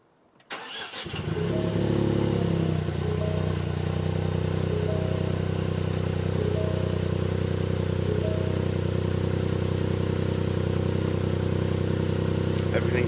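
A Ford Fiesta MK8 ST with a Mountune M235 map cranks and fires about a second in, then settles into a steady, loud, even idle that holds to the end.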